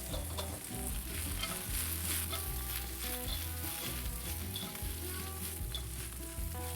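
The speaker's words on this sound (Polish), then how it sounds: "Czekamy chwilę, i ponownie mieszamy." Duck pieces sizzle and fry steadily on a hot Onyx 4S grill plate in an Asian-style dish, with scraping stirs breaking through the continuous loud crackle and no talking.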